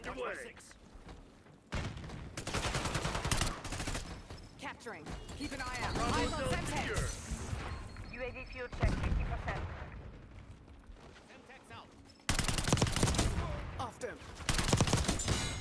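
SMG fire in the Black Ops 6 battle royale: rapid bursts of automatic gunfire in separate stretches, loud and close, with thuds and game effects, and a voice talking over parts of it.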